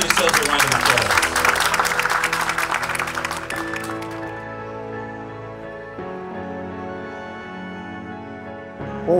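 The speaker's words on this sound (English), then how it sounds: "You can give yourselves a round of applause." An audience applauds briefly at a solar energy presentation, and the clapping fades after a few seconds into sustained musical tones.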